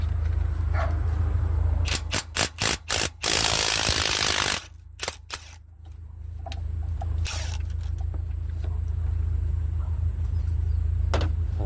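Tools work on the heat (temperature) sensor of a Ram 1500 engine: a series of sharp metallic clicks and clanks, a longer loud burst of noise, then scattered taps over a steady low engine-bay hum.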